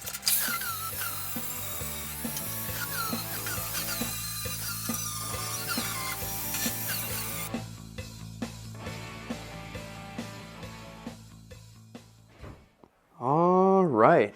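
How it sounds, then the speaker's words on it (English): An angle grinder smooths welds on a roadster's new floor with a steady close-up whine and scraping that fades toward the end, followed by a brief burst of speech. "I can now get in here with my grinder and just beautify a little bit of these welds"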